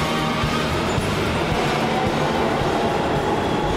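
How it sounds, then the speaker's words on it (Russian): New York City subway train rumbling steadily up close, a dense continuous roar of wheels on rails with faint rhythmic clatter throughout, no voices. "Нью-Йоркский сабвей"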